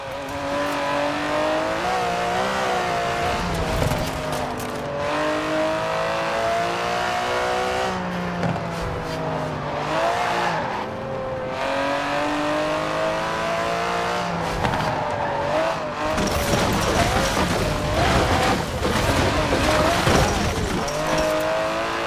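Aston Martin DB11 with a 5.2-litre twin-turbo V12 in Forza Horizon 4, racing game car audio: a loud, continuous engine note rising and falling through gear changes, with tire squeal and skidding bursts and no pauses.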